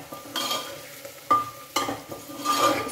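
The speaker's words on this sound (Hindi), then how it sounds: "इसको भून लेंगे अच्छे से।" Pumpkin and spices stir-fried in a pan make a quiet crackle broken by several sharp spatula scrapes and clinks against the pan at an uneven pace, close and without talk.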